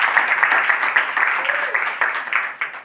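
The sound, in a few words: audience applause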